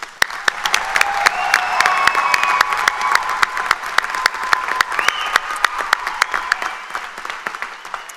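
Graduates at a Salisbury University Fall 2024 commencement receive a large crowd's sustained applause, with dense clapping throughout and some cheering and whistles rising over it.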